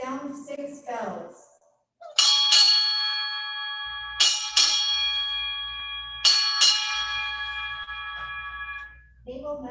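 Six strokes of a ship's bell at a United States Navy retirement ceremony, sounded as three evenly spaced pairs of bright, ringing strikes that hang in the air; someone speaks just before the first pair and again at the end.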